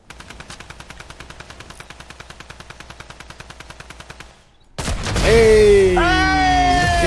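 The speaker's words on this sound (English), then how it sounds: "Are you shooting? He's shooting." Rapid, evenly spaced automatic gunfire from a battle royale video game, a long steady burst of about forty quick shots at moderate distance, cut off by a sudden loud, warbling burst of sound.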